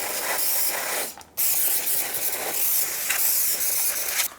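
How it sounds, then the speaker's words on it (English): Brake cleaner is sprayed onto the front brake of a 2014-2018 Subaru Forester in two loud, close, steady hissing bursts separated by a brief pause. "I'll spray it down with some brake clean"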